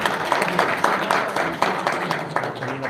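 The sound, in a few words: audience applause at a university speech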